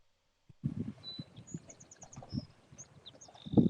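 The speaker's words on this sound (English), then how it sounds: "I love hearing the birds, Brittany." Birds sing at sunrise during a solar eclipse, with faint scattered chirps and short high whistles over a soft, uneven outdoor rumble, heard at a distance.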